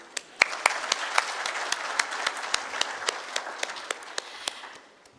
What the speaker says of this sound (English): So I think we can start with all of you applauding yourselves.